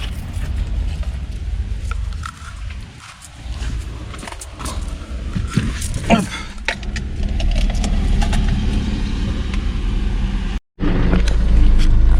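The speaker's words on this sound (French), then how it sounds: "Donc voilà, véhicule démarré, hein." Citroën or Peugeot car engine idling steadily after a jump start, a continuous low rumble close by with small clicks and handling noises on top.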